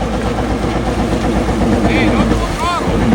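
A jet ski engine runs at a steady, rough idle up close, a continuous low rumble with voices talking over it.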